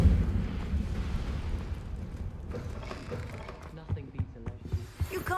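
In Hogwarts Legacy, the Incendio fire spell goes off as a rumbling, eruptive burst of flame that fades into a series of crackling pops and small thumps, with a voice speaking over it.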